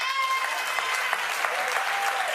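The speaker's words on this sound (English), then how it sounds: "Clap if you'd be fine with it." A talk-show studio audience breaks into applause in response to a question about topless gardening, a dense, even burst of clapping that holds steady for a couple of seconds under a faint tonal background.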